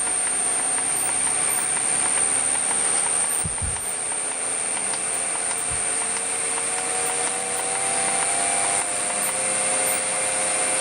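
A 0.75 kW Mechtric three-phase electric motor running on test, giving a steady loud whine with a constant high tone and a few faint low thumps, no talk.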